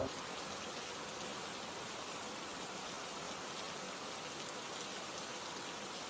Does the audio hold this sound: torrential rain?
yes